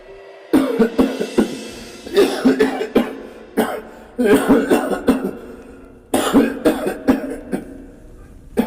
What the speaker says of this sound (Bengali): তোমার কাশিটা কবে থেকে হয়েছে?